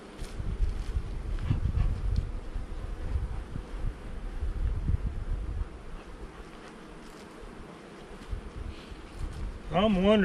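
Agitated honeybees pour out of a queenless hive, a steady buzzing drone with shifting intensity up close, wind rumbling across the microphone.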